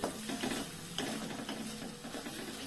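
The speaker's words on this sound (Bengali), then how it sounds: "ভালো করে কষিয়ে আসছি, আর একটু কষাতে হবে।" Curry masala sautéing and being stirred in oil in a pan, a soft steady sizzle broken by repeated scraping strokes of the spoon, fairly quiet and close.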